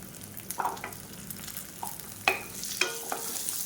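Garlic and small onions sauté in a pan for a vegetarian fish-style kuzhambu, with faint sizzling and a few soft scrapes and clinks of stirring.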